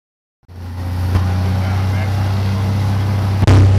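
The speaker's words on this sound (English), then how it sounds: "The plane that Dave has provided for us is a small single-engine aircraft" A small single-engine aircraft engine starts up abruptly from silence and settles into a loud, steady droning hum, with a sharp jump in level near the end.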